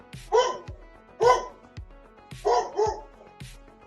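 A guard dog barks three times, sharp and fairly close, with short gaps between the barks and quiet in between.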